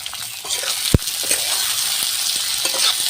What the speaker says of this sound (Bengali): টমেটো কুচিগুলো এবারে আমি দিয়ে দিলাম এবার আমি ভালো করে কষে নেবো